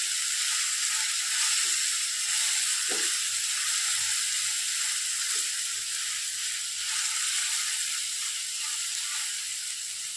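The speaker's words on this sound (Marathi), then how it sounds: "कांदा फ्राय करून घेऊ।" Chopped onion frying in a pan for a masala dish, a steady bright sizzle running throughout at an even level, with a few soft stirring clicks and no talking.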